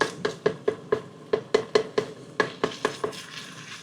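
Whole tomatoes are smashed in a pan with a utensil, giving a rapid series of sharp metallic taps and knocks, close and loud, that slow and soften toward the end.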